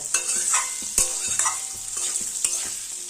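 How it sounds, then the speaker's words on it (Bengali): Diced potatoes frying in oil over a high gas flame sizzle steadily, with a few sharp stirring clacks and scrapes in the pan, heard close and without speech. "দুই মিনিট আলুটাকে একটু ভেজে নেব"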